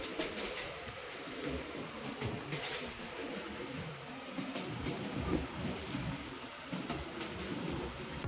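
A passenger train running from Rajshahi to Nachole rumbles steadily along the rails, a continuous close rolling drone of wheels and carriage noise with faint bird calls above it and no talk.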